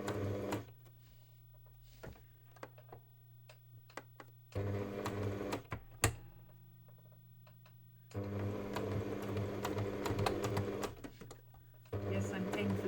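A sewing machine stitches an eighth-inch seam on the bias in slow bursts, its rapid mechanical chatter starting and stopping several times between quiet pauses.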